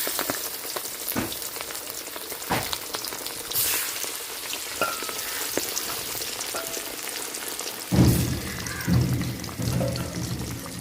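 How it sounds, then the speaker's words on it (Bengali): Turmeric- and salt-rubbed fish frying in oil in a Bengali village kitchen, a steady broadband sizzle with crackling pops that swells louder near the end as more pieces hit the pan, with no voices. "মাছ এখন হলুদ লবণ মাখাই নিতেছি, মাছগুলা ভাজবো। এই তেলেই দিয়ে দেবো এখন মাছ।"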